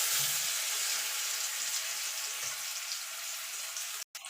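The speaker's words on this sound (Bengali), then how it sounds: "আলুগুলো ভেজে নেব।" Potatoes fry in hot oil left over from frying lentil dumplings, a bright, dense sizzle that holds steady and close before cutting off abruptly near the end.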